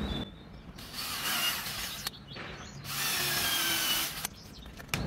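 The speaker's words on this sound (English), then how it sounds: "The pilot holes I'm drilling for the screws, I'm also using the countersink bit" Power drill boring screw pilot holes with a countersink bit in scrap timber for a fireplace surround on a narrowboat, two long whirring bursts with short pauses and brief starts between, fairly close and alone.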